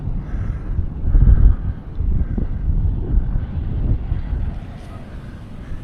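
A gusty breeze rumbles and buffets across a downtown Phnom Penh rooftop beside an infinity pool. It swells and eases unevenly over a few seconds, close and fairly loud.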